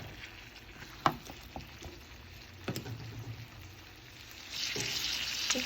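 Polish sausage and potato pieces browning in a pan, giving a quiet steady sizzle with a few sharp clicks and utensil taps, and a brighter hiss swelling near the end.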